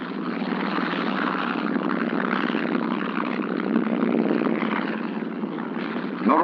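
Mitchell and Marauder bombers of the Second World War drone overhead with a steady, loud propeller-engine roar that holds for several seconds in a narrow-band, old newsreel recording.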